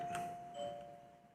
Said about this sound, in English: that's the sound of our doorbell